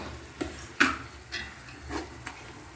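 Ginger-garlic paste sizzling in oil for chicken biryani, a soft background fizz broken by a few spoon scrapes and light taps against the pan.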